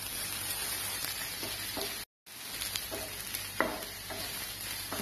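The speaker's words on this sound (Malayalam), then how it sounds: "ഇത് നമുക്ക് നല്ലപോലെ ഒന്നുകൂടി ഒന്ന് വഴറ്റാം." Onion, crushed ginger and garlic sauté in oil for a Kerala egg roast, a soft, quiet sizzle with intermittent spoon stirring and clicks, and a brief cut midway.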